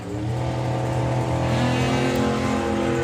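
Junior comp dragster at a national finals drag race, its engine roaring loud and steady at full throttle down the strip, with a harmonic drone that shifts slightly in pitch as it runs.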